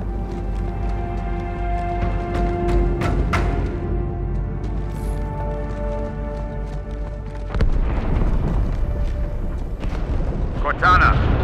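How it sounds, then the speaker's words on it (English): A large explosion aboard a ship in the Halo 2 video game, heard as a deep rumbling boom that swells to a louder burst midway, against sustained tonal game sound with voices over it. "That explosion came from inside the Athens."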